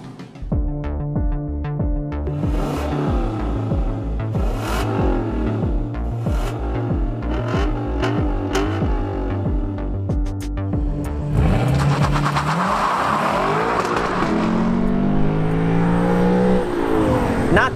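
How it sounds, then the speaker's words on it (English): Lexus LC 500 V8 engine revving hard at wide open throttle, a loud, steady throaty roar climbing in pitch through the gears toward redline, close and continuous with shifts and a rising surge near the end. "The V8 at wide open throttle sounds menacing, and power builds all the way to redline."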